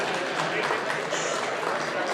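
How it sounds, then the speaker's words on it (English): Round of applause from an audience at a mental health awareness fundraiser, dense steady clapping filling the whole stretch at moderate level with no gaps. "Now we got a real round of applause"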